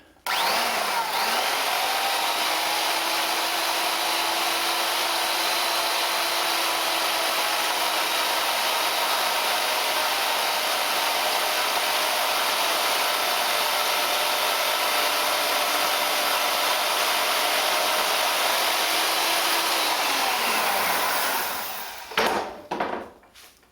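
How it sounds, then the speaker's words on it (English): A tool cutting four slots across a steel mandrel for a titanium ring gives a loud, steady, high whine lasting about twenty seconds, with slight pitch changes under load, then winds down into a few clunks. "I'm just going to take and put 4 cuts across here and make this an expanding mandrel"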